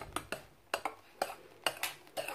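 Homemade slime mixture made with leftover laundry detergent being stirred, several sharp scraping clinks of a utensil against a bowl in uneven bursts, close and quiet.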